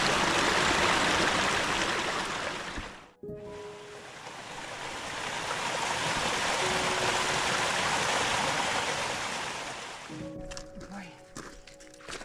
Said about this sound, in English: And there's lots of pools and waterfalls for Billy to have a drink along the way up